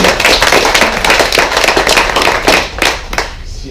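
Loud, close clapping from a small crowd, sharp overlapping hand claps with uneven rhythm that begin to thin out toward the end.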